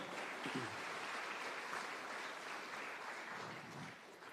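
Audience applause at a Samoan community ten-year anniversary gathering, a steady, fairly quiet wash of clapping that holds evenly throughout, with a brief voice murmur near the start.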